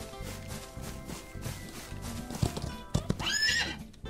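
A horse in the Old West survival game Outlaws of the Old West, hooves clip-clopping steadily nearby before a clear whinny near the end.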